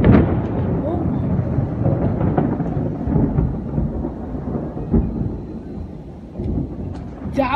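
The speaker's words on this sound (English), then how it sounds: "That was the loudest thunder I've ever freaking heard." Loud thunder from a severe thunderstorm rolls and rumbles deep and close for several seconds, the heavy rumble swelling and easing in waves without clear speech.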